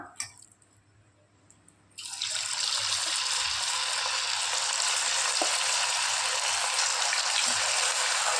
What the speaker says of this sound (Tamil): இப்போ நம்ம எண்ணெயில் போட்டு ஃப்ரை பண்ணிக்கலாம்